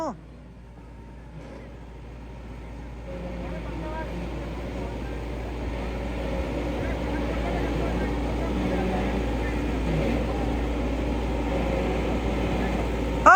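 A tractor engine, stuck in mud and just push-started, runs with a steady low rumble that holds for the whole stretch, with voices faintly in the background.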